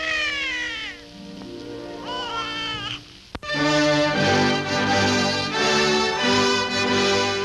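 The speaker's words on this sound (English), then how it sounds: "From a distant nursery, the cry of her brand new baby." A newborn baby cries in a nursery, a wavering wail that rises and falls across several breaths, heard alone under faint room noise with a brief click midway.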